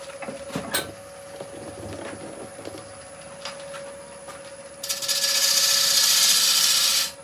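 A wood lathe turns a bowl as a push cut tidies the rim, soft scraping and tool contact early on, then a loud, steady hiss of cutting rising near the end for a couple of seconds.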